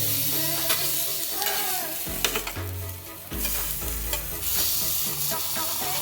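Slices of Spam fry without oil in a Saladmaster pan, giving a steady close sizzle and crackle with scraping and stirring noises, loud and continuous with no talk.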